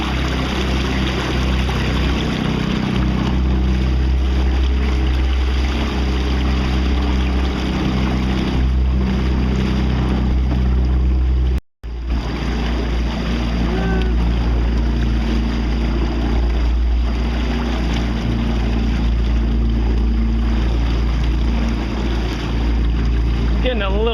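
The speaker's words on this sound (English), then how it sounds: "Getting a little bit of waves in the boat." Water sloshes and splashes against a small boat under way on open water, with steady wind and engine-like rumble throughout, loud and close, broken by one brief dropout.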